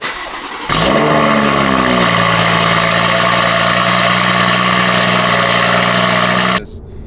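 BMW M140i engine firing up and settling into a loud, steady idle after a brief quiet moment, with a deep, continuous drone and a sharp cutoff near the end.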